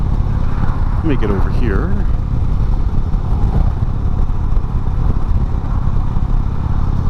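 A 2016 Indian Springfield motorcycle cruising at 55 mph and 2100 RPM, a steady low engine drone with wind rush under a rider's close, continuous talking.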